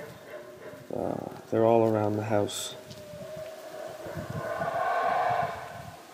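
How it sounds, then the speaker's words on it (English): Howler monkeys call at night in the Belize jungle around a house, a distant, droning roar that swells over several seconds after a brief spoken line. "what you're hearing is the howler monkeys"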